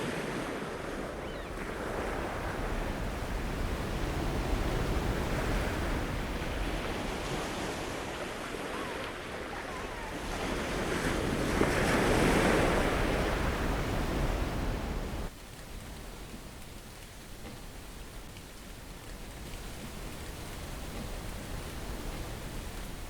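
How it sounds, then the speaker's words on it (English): Steady rushing seawater washing over the deck of the schooner Wander Bird through the scuppers during a Cape Horn passage, with wind noise, swelling and easing, loud and close, with no voices. "that's seawater coming in through the scuppers we're playing in."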